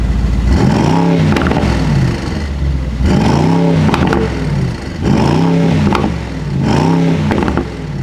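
A 2022 Mercedes SL 63 AMG engine in track mode with the exhaust valve open, revved hard four times in a row, each sharp climb and fall loud and close, crackling at the tail of each rev.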